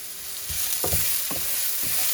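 Greens being stir-fried into fried rice in a hot pan, with a steady sizzle under several scraping stirs of the spatula, close and moderately loud, no talking.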